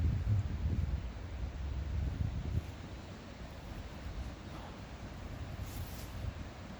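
Steady outdoor wind in the Smokies rushing and buffeting the microphone, a low continuous roar with gusts, slightly stronger at the start and easing later.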